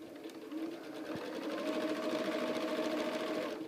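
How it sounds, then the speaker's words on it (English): A sewing machine stitches binding onto a Christmas tree quilt, its motor humming in a steady, close whir that builds after a brief start and runs evenly, with no voices. "I'm going to clip the thread right here and continue to sew."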